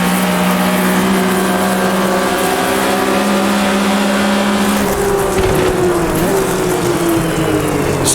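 A race car in Automobilista 2 during 60-car AI racing roars loudly as its engine climbs through the revs, with one clear upshift midway where the pitch drops and then rises again, a continuous close drone.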